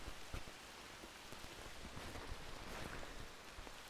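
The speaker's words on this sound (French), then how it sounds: "Ah, il pleut vraiment beaucoup." Heavy rain falls outdoors in a steady, dense hiss of drops that continues without a break and without voices.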